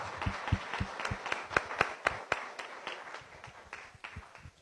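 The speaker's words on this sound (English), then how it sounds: "Please join me in a round of applause for all of our visitors and guests." A small group at a weekly Rotary Club luncheon meeting claps for visitors and guests: a quiet, loose patter of separate hand claps with a few sharper ones, fairly near and fading toward the end.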